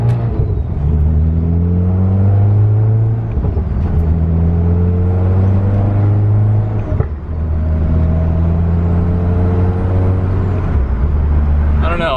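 A Volkswagen MK6 Golf R with a large turbo and an oil-burning problem pulls through first gear, its engine droning loudly and steadily from inside the cabin, with a brief dip midway.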